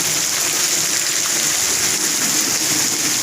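Heavy rain pours down in a steady, dense hiss that stays even and close throughout, with no voices.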